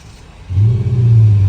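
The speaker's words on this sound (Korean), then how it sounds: "시동 버튼을 한번 눌러보겠습니다" A Jeep Wrangler fitted with a tuned active exhaust starts up: after a brief quiet moment the engine catches and settles into a loud, deep, steady booming rumble close by.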